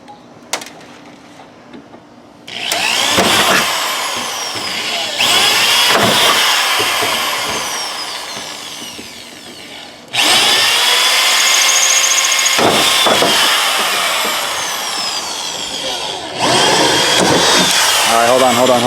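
Power drill drilling out rivets on the rear roof section of a Nissan 240SX S13 during a roof skin swap, loud whining bursts of several seconds each, close up, with short gaps between runs.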